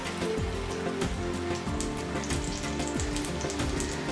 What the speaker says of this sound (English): The oil is hot. Now let's fry it. I'll be shallow frying the cutlets.